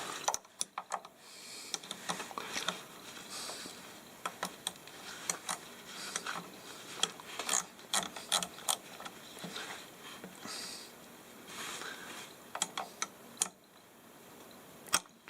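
Quiet metallic clicks and small ticking taps from a wrench tightening a fitting on a furnace oil pump, irregular and close, continuing steadily for several seconds without talk.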